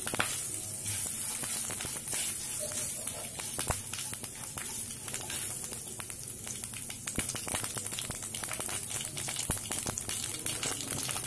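Food fries in hot oil over a high flame. A dense, continuous sizzle holds close and fairly loud, broken by scattered sharp crackles and pops, with no talking.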